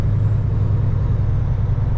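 A 12-10 wide-load truck rolls through a town center, its steady, loud, low engine rumble heard from close by and unbroken for two seconds.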